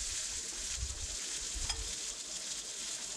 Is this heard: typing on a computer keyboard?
no